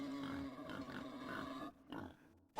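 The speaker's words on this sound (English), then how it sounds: "What's making the pig noises?" A boar grunting sound effect during a tabletop game session, a low rough rumbling grunt drawn out for over a second, followed by short bursts and a sharp closing snort, fairly faint.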